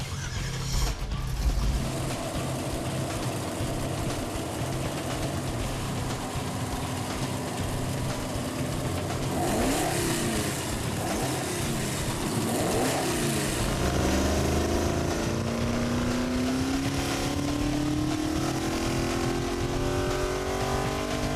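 A '64 Comet drag car engine roars on a dyno, holding at a loud steady drone before climbing through several hard revs and sweeping up to a high-pitched scream near the end.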